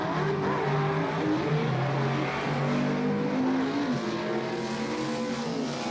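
Two AFX drag race cars, a classic Ford against a Chevrolet, roar together at a dragstrip, their engines droning loud and steady with shifting harmonic pitches throughout, with no talk.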